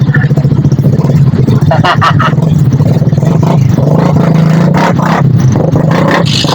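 Steady town road traffic during fiesta time in Medina, Misamis Oriental, with passing cars and motorcycle engines revving and droning close by, loud and continuous, and faint voices mixed in.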